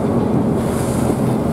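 A fishing boat heads out on a choppy sea, giving a steady loud roar of engine, wind buffeting and waves with no clear breaks.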